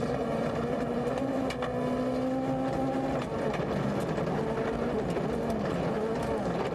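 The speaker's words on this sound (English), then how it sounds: "So we're not hearing the notes, but you can hear the car." A Ford Fiesta S2000 rally car drives a special stage of the 2011 IRC Rally Scotland, its engine note rising and falling steadily through the gears, fairly distant and unbroken.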